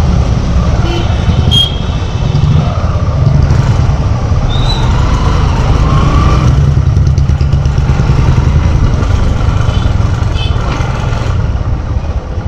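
An LML Graptor motorcycle engine idles and pops, giving a steady loud rumble with irregular backfire crackles, while people talk nearby over roadside noise.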